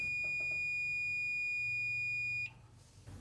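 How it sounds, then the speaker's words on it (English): A multimeter set to continuity gives one long, steady high-pitched beep for over two seconds with its probes touching, then cuts off abruptly, leaving faint handling noise and room sound. "If there is continuity, the meter will beep."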